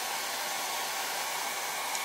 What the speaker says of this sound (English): you can use your hair dryer